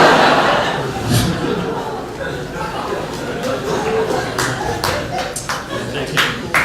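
A comedy club audience at the Improv claps scattered and unevenly over murmuring chatter and chuckles, with a few sharper isolated claps standing out later on.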